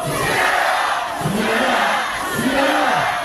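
A large outdoor crowd at a Democratic Party candlelight political rally in Korea shouts a slogan in unison, loud and sustained, with swelling waves of voices.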